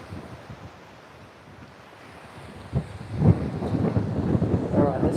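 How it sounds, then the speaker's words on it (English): Strong gusty wind on the coast buffets the microphone, starting as a low rumble and building into loud roaring blasts for the second half, with surf-like noise beneath and no talk. "this wind sure is hectic"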